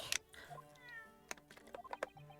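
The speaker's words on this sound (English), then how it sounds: "Kitty cat." Cat meows in The Great Ace Attorney video game, a couple of short close mews among soft game sounds, with a voice speaking over part of it.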